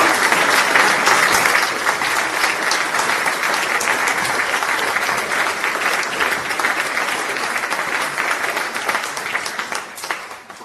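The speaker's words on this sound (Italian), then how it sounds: "Vi chiedo un ulteriore applauso." Sustained audience applause at an archive collection presentation event in Italy, a steady dense wash of many hands clapping throughout, loud and continuous, tapering slightly at the end.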